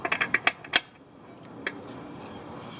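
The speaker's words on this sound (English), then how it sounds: "you know your torque wrench is working as you get used to the feel of what 72 foot-pounds is" Torque wrench set to 72 foot-pounds clicking, a quick run of about six sharp metallic clicks close up, then one faint click after a pause over quiet room tone.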